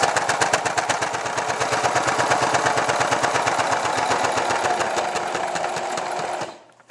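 A sewing machine stitches steadily through thick scrapbook paper for a 12x12 vintage layout, a loud, fast, even run of needle strokes that carries on for several seconds before winding down and stopping.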